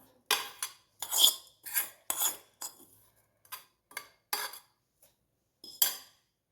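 A spoon scraping and clinking in a bowl as roasted coconut is mixed into batter, a run of short, separate rasping strokes with pauses between, close and fairly quiet; no talking.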